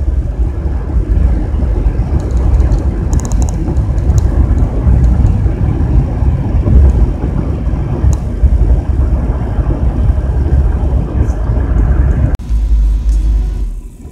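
A van crawls through a traffic jam on Highway 65 southbound in Kentucky, giving a continuous loud low road and engine rumble inside the cabin, steady throughout with faint occasional clicks.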